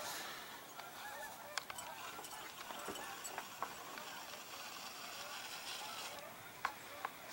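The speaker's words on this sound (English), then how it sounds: "The snow geese." Snow geese honk from a flock over winter farm fields at a wildlife refuge, many overlapping calls sounding at a distance, fairly faint under a light background hiss.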